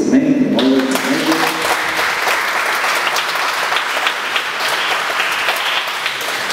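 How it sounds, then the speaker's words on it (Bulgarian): Dense, loud applause from a concert audience welcoming the soloist at a Gypsy romance concert, a brief tonal sound at the very start and then a sustained, even wash of many clapping hands throughout. "аплодисменти, моля за него."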